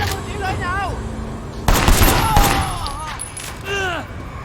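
Gunshots in the video game Sleeping Dogs Definitive Edition, with a few sharp loud bursts in the middle while chirping, whistling game sounds and background noise run underneath.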